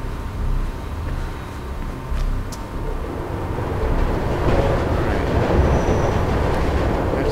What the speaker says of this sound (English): Oh, there's a train right here.